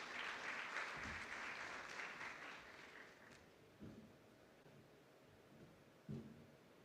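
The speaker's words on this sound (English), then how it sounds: "We can clap for him as he comes." An audience at a business app launch event applauds a company chief executive walking up, a dense, fairly soft burst of clapping that fades after a few seconds, leaving a quiet room with a few faint thumps.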